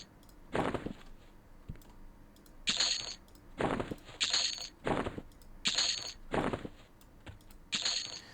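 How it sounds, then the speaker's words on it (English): Computer mouse clicking during play of the online game EverQuest, a series of about eight sharp, close clicks in an uneven rhythm with short gaps, crisp and moderately loud against a quiet room. "Oh man, having a tough time right-clicking stuff."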